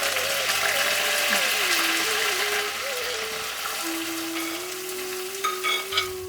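Onions with curry leaves sizzle and crackle steadily in hot oil, a dense continuous frying hiss with occasional stirring scrapes and a faint tonal whine.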